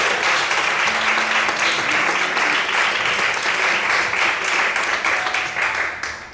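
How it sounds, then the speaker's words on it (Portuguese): A church congregation applauds together at a couples' talk, a dense, steady wash of clapping that holds strong and close for about six seconds before easing off at the end, with faint voices underneath. "Quantos podem aplaudir e glorificar ao Senhor Jesus?"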